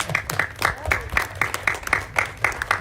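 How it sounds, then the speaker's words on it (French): A small group of seniors at an Easter Mass in a Fribourg residence claps in a loose, fairly regular rhythm of distinct close hand claps, moderately loud, with no talking. "on peut les féliciter et on peut les applaudir aussi"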